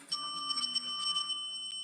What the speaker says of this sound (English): There's my raid bell too.